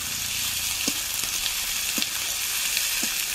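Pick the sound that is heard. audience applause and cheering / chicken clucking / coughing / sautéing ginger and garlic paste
sautéing ginger and garlic paste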